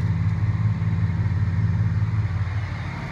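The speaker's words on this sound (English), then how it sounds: "Now the tractor will automatically start shifting up to 9th gear." John Deere 8235R tractor engine running steady and close as it shifts up toward ninth gear, a low, even drone with constant loudness and no voices.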